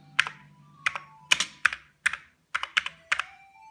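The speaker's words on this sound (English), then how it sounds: "Now let's start typing." Keys typed on an original Commodore 65 keyboard connected to a MEGA65 through a DM65PIC adapter, heard as about a dozen crisp, close clicks in short irregular bursts, with no voices.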